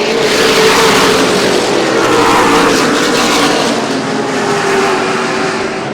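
Late model race cars roar around an oval track, a loud sustained engine drone that swells and fades slightly as the pack passes, with no voices over it.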